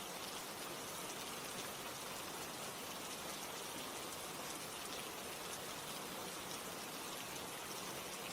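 Steady rain falls in a dense, even hiss with no breaks, soft and continuous throughout, with no voices.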